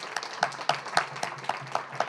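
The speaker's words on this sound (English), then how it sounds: "deserves its own round of applause" Hands clap at an evenly spaced, steady rhythm, sharp and fairly close in a room during a university creative writing reading, sounding like a single person or small group rather than a full crowd.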